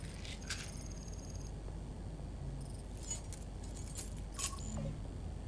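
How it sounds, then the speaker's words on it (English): Car keys jangle as they are looted from a body in the stealth video game Filthy Lucre, in a bright metallic rattle at the start and again in short bursts near the end, over a low background hum. "We got a car keys"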